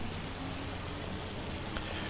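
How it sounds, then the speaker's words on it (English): Hail falls steadily in Farming Simulator, heard as a dense, even patter of impacts in a continuous wash, with no voices. "we need this hail to stop or to subside"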